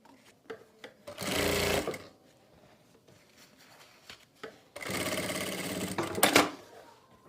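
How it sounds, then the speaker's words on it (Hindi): A sewing machine runs quick stitches along the folded neckline of a kurti, two close, steady bursts of whirring stitching separated by quiet handling clicks. "अब हम गले को दूसरी तरफ फोल्ड करेंगे और फोल्ड करने के बाद ऊपर से सिलाई लगा लेंगे।"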